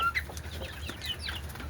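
Rooftop-raised native desi hens and chicks give close, repeated clucks and brief chirpy calls, scattered over a steady low hum.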